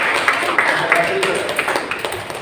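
Students applaud in a classroom after a group presentation, a steady patter of scattered hand claps with sharp individual claps standing out, moderately near and fairly even throughout.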